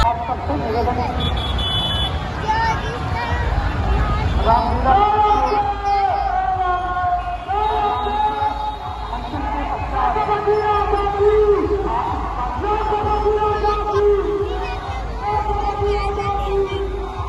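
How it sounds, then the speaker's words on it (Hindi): A huge crowd at a Dussehra fairground in Baloda Bazar, a dense, steady hubbub of many voices with loudspeaker music and tonal announcements drifting over it, and a nearby voice talking intermittently. "तो देख सकते हो भीड़ इतना ज्यादा है।"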